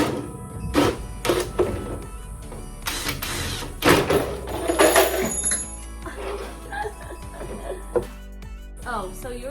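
A power drill fitted with a 1.5-inch (38 mm) hole saw bores holes while building a DIY self-watering raised garden bed. Several loud grinding bursts come with a motor whine, and faint voices sit in the background.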